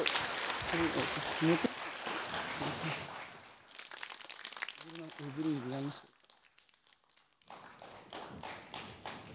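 Audience clapping to welcome a performer onto the stage at a memorial program, uneven bursts of applause broken by a host's amplified voice and brief quiet gaps.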